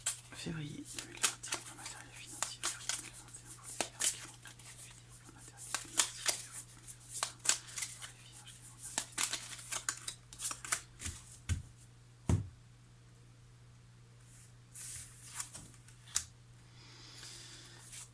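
Tarot cards being shuffled and handled, with repeated crisp riffling and slapping bursts over a steady low hum, close by. A voice talks at times between the card sounds.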